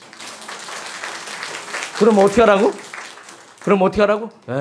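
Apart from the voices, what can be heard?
congregation applause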